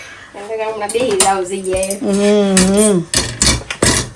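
Plates and dishes for a big Gujarati thali clink and clatter as they are set out, fairly loud and close, while a voice hums or sings a drawn-out tune over the clatter.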